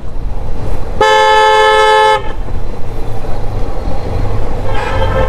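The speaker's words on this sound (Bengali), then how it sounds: "আমার হর্ন একটা পুরো বাসের হর্নের সমান বাইরে ভাই" A motorbike horn on Marine Drive Road by a beach blasts one long, loud, close toot of about a second, followed later by a second short honk, over road and engine noise.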